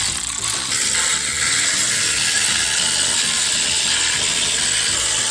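A ratchet wrench cracks car wheel bolts loose one after another, a loud, continuous rapid clicking and grinding that stays close and dense throughout, with no talking.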